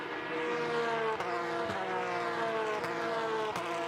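Several race cars, including Porsches, battle in a close pack on the track at the Indianapolis Motor Speedway, with loud, sustained engine drones shifting in pitch and sharp gear-change cuts as they roar past.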